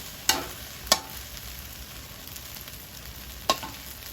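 Glass noodles with egg and minced pork are stir-fried in a pan, giving a steady close sizzle broken by three sharp clacks of the utensil against the pan. No one speaks.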